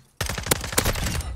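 Rapid gunfire from the video game Modern Warfare 2 erupts suddenly and runs as a dense, loud automatic burst with a few sharper cracks standing out, continuing steadily to the end.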